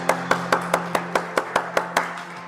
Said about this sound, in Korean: 하나님 앞에 오고 영광의 박수를 드리겠습니다